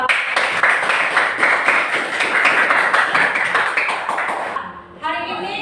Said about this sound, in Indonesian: Kasih tepuk tangan untuk Pak.